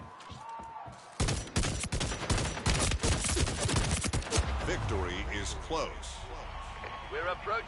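Rapid gunfire in a video game firefight, a dense run of sharp shots from a three-round burst rifle, loud and close, with a player talking over and after it.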